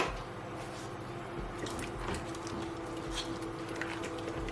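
Egusi soup being stirred in a cooking pot, giving soft wet dripping and sloshing sounds with a steady simmering hiss underneath, close and continuous, no talking.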